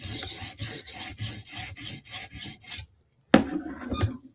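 A Spyderco knife is drawn across a sharpening stone in about nine quick, rhythmic rasping strokes, then a short pause and two separate strokes, close and clear with no talk.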